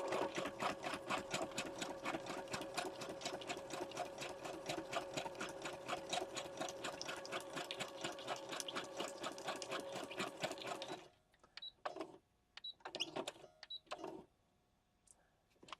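A sewing machine stitches through grocery-bag paper for a junk journal in a fast, even run of needle strokes lasting about eleven seconds, then a few short, separate bursts with pauses between.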